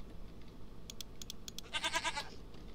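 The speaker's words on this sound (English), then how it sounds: "Move out the way, goat." A Minecraft goat lets out a short burst of nasal bleats near the end. Light clicking, like keys being tapped, comes before it over a quiet background hum.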